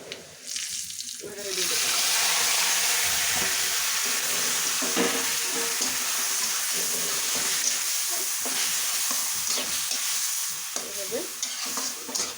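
Spinach is stir-fried in a pan after browning, giving a loud, steady sizzle with repeated scraping and stirring strokes throughout, while someone speaks briefly over it.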